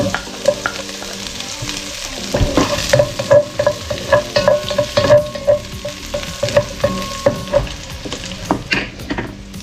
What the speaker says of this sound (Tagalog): Tapos gisa na natin ating sibuyas sa bawang